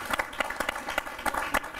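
Audience clapping at a televised interview with actor Anupam Kher, a cluster of separate claps in an uneven rhythm, moderately close, that rise and fall over a couple of seconds without talk.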